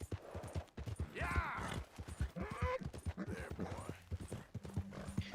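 Horse hooves in Red Dead Redemption 2, a quick irregular clip-clop of a horse hopping and moving close by, with a neigh or whinny and a voice talking over the steps.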